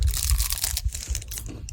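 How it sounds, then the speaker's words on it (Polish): Kinder Bueno chocolate bar crunched up close outdoors in the Tatra mountains, a dense run of loud crackling bites and crumbly snaps with no talk. "A ja będę wam przeszkadzał chrupaniem."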